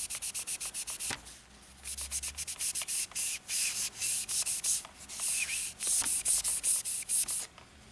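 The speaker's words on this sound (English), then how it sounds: "You can clean the roller with a soft cloth." A soft cloth wipes the roller of a Brother toner cartridge in quick, close rhythmic strokes, a dry rubbing pattern with short pauses between passes.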